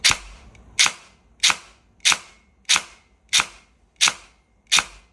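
Kestrel V3 airsoft electric gun firing on semi-auto: eight sharp, evenly spaced snapping shots about 0.65 seconds apart, close and fairly loud, each with a brief mechanical tail, and no talking.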